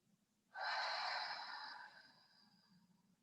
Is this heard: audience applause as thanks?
no